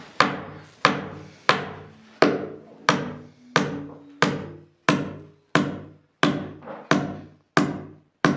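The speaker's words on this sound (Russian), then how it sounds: "Завершающий последний гвоздь." A hammer drives the last nail into a plywood subfloor laid over a wooden base for porcelain tile: about a dozen loud, sharp, ringing strikes in a steady rhythm, close up, with no talking.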